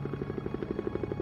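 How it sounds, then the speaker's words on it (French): A navy helicopter flies over an ocean crash area, its rotor giving a steady, rapid pulsing thump, close and moderately loud, with no other sound. "Guido Fernandez survole la zone du drame à bord d'un hélicoptère de la marine."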